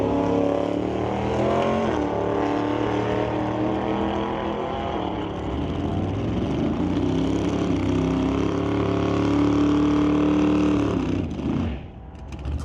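A 1977 Mustang drag racing car accelerates down the strip, with a loud, sustained engine roar whose rising pitch climbs through gears before cutting off near the end.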